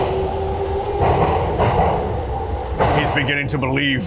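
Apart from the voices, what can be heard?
train station ambience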